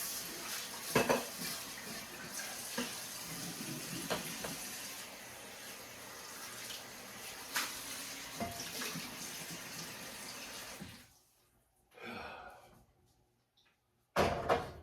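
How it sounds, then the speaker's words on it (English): Dishes and a cast-iron skillet being washed in a kitchen sink, with running tap water, clinking pots, cutlery and scrubbing going on steadily and close, then the water stops, followed by a few brief clanks and a final splash. "I'm gonna wash my skillet out and"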